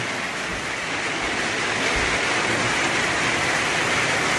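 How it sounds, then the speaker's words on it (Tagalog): Dense, steady roar of heavy rain pouring down continuously, loud and close, with no voices. "Lakas ng ulan."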